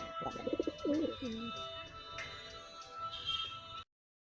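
A Pilong pigeon gives a short series of soft, rolling coos close by near the start, followed by faint background hum and quieter ambient sounds.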